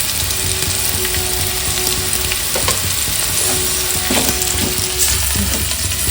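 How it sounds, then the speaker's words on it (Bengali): Steady, loud sizzling of whole spices frying in hot oil for a sago dish, with occasional faint scrapes of a spoon in the pan. "গোটা মশলাগুলো একটু ভাজা"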